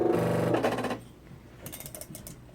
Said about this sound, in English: Let me get my timer set.